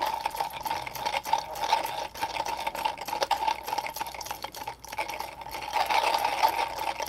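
Comandante C40 Mk3 manual burr grinder with Nitro Blade burrs crushing coffee beans, a steady close gritty crunching and whirring that pulses gently with each turn of the crank and runs on without pause.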